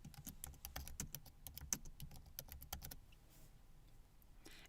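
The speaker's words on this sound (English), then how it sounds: "So I'll just go ahead and start typing." Quick, fairly even keystrokes tap on a computer keyboard for about three seconds, close and faint, before stopping and leaving quiet room tone.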